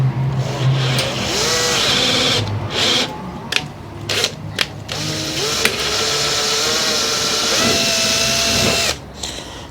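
A power drill-driver with its torque turned up, used while repairing a compost spreader, whines steadily up close, its motor pitch sliding up and down with a few brief pauses and no talking.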